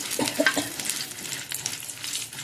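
Chicken gassi masala frying in coconut oil gives a soft, steady sizzle with a few light utensil scrapes near the start, close and brief, with no voices.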